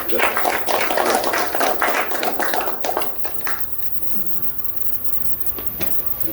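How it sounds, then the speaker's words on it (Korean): A church lecture audience claps to welcome a pastor, a short burst of brisk applause lasting about three seconds before fading to quiet room tone. "나오실 때 박수로 한번"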